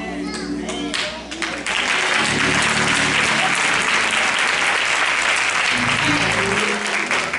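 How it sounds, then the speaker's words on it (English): Strong congregation applause at a church jurisdiction convention evening service, loud sustained clapping from a large crowd that carries on for several seconds, with a low murmur of voices and some faint tonal sound underneath. "Come on, give her a hand."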